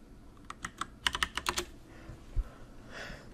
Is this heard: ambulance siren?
no